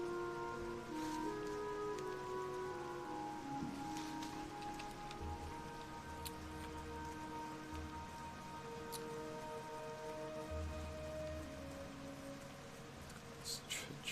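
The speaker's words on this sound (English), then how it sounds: "It's truly raining." Steady rain falling in World of Warcraft, a continuous even patter that lasts throughout beside game music and ambient tones, with no one speaking.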